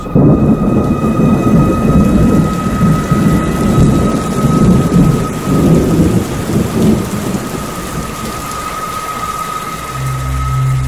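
Thunderstorm with heavy rain as a radio drama sound effect: a dense, loud, steady downpour with rolling thunder rumbling throughout, fading slightly toward the end, with no voices.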